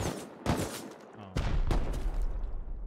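AK rifle shots in the game Rust ring out in several loud, close bursts separated by brief gaps, harsh and full-bodied, with no speech.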